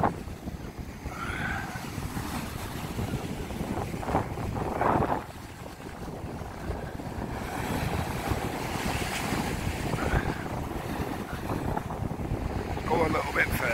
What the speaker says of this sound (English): Sound of the seashore.